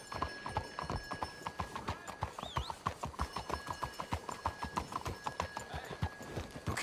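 Several horses walking at a steady pace in the video game Red Dead Redemption 2, hooves clip-clopping in an even rhythm throughout, with a brief whinny partway through and a faint steady tone in the background.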